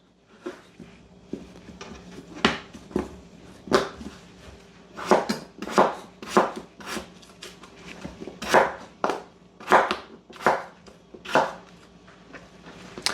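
A knife chopping potatoes into small cubes on a cutting board for caldo verde soup, about a dozen crisp, close knocks in an uneven rhythm with brief pauses between them, and no talking.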